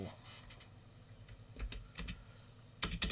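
Keys clatter on a computer keyboard during a music tracker session on a Commodore Amiga, soft scattered taps giving way to a few louder, sharper presses near the end, with no voices.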